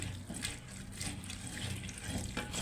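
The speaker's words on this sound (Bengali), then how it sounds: "এইভাবে সবগুলো মাছ ডইলা ডইলা সুন্দরভাবে পরিষ্কার করে নিয়ে ধুয়ে নেব" Puti fish being washed and rubbed clean by hand in water, with a steady close sloshing and trickling of water and intermittent splashes throughout.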